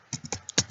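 A handful of quick computer keyboard keystrokes, six or so irregular clicks close by over less than a second, with no voices.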